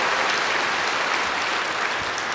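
Steady audience applause at a spiritual gathering, dense, even clapping from many hands filling the space without pause.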